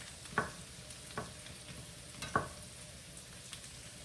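Potatoes frying in a large pan for a brunch dish, with a soft steady sizzle and three or four sharper stirring or scraping clatters from a utensil, fairly quiet and with no talk.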